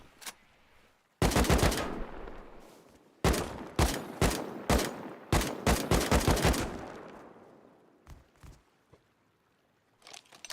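Rust gunfire rips through base walls in sharp, loud bursts of rapid shots, separated by brief pauses, then fades to a few scattered single shots and quiet footsteps.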